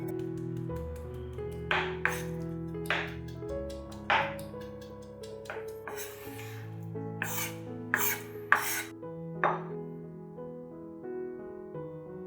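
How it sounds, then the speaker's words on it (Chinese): A knife minces prawns on a board: irregular, sharp chopping taps come in short clusters over a background of steady tonal music. "然后再把它剁碎。"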